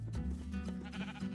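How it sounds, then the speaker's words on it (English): Sheep bleat in Minecraft, rainbow sheep on a modded farm, their wavering cries overlapping continuously in a dense, close chorus. "time to lead our sheep to their new homes"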